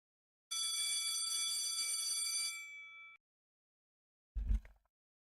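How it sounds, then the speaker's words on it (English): A school bell rings in the visual novel game Doki Doki Literature Club, a bright sustained electric ring for about two and a half seconds, followed after a pause by a short dull thump. "At long last, the bell rings."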